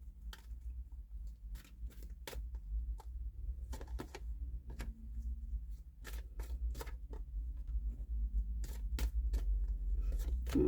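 Fortune cards are shuffled close by, a series of crisp riffling snaps and short flutters at irregular intervals over a low steady background hum.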